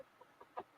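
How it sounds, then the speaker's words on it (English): A rubber chicken toy lets out three brief, quiet squawks in quick succession, each one a little louder than the last. "I think Rubber Chicken has to debate Biden, and then and then the winner gets Tru"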